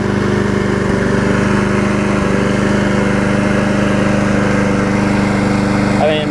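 A Murray self-propelled lawn mower's small engine runs loudly and steadily up close, with a constant buzzing drone and no break.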